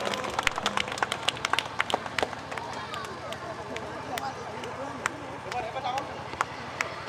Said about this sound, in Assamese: আমি তেওঁলোকৰ বাবে এটা জোৰকৈ হাত চাপৰি বজাব লাগে